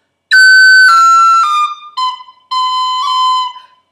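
A tin whistle plays a short descending phrase of clear, bright notes, the first slurred, the rest tongued, ending with a pause and two more notes.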